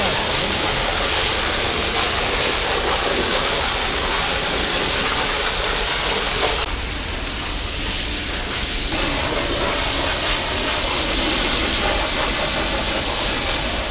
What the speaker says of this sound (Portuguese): ele controla a vazão ali pra vir a água mais fraca